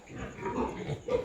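Pigs grunt and snuffle in a backyard farm pen, a short, fairly close burst of low grunts with no talking.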